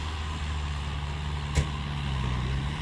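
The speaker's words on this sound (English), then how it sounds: "Skid steer for your enjoyment." A skid steer works nearby on a job site, its diesel engine a steady low rumble with one brief sharp clank partway through.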